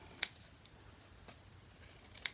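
Scissors cutting paper for a wobbler gift box, three sharp, quiet snips spread over a couple of seconds, close and alone.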